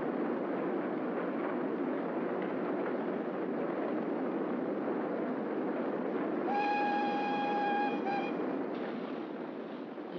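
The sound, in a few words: subway train running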